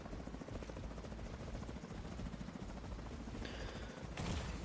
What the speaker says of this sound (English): Of course there's a helicopter.